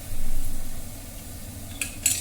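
Mustard seeds, jeera and pepper powder sizzle in hot oil, a steady close crackle that swells early and then eases, with a couple of sharp bright clinks of utensils near the end.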